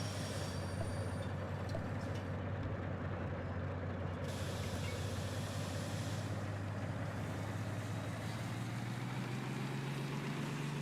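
Steady rumbling train noise from the Derail Valley railway game, a continuous low drone with hissing air-brake texture, heard alone without talk.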